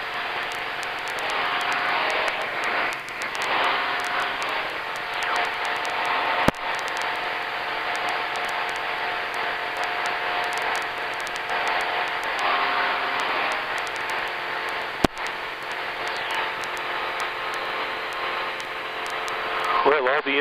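Sonex light aircraft engine droning steadily in flight, a constant buzzing hum heard inside the cockpit with two brief sharp clicks, while a voice talks over it for much of the time.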